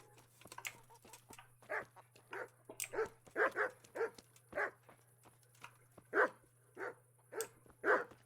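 Dogs bark repeatedly in Kingdom Come: Deliverance, a string of sharp, moderately close barks in uneven bursts over a steady low hum, with no talking.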